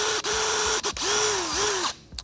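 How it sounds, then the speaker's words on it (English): Power drill boring through the center of a metal fender eliminator plate for a 2025 Honda Grom, several loud whining bursts with brief stops between them, close up, ending in quiet. "So I'm going to go ahead and drill right through that center."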